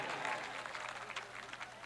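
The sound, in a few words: audience applause at a poetry mushaira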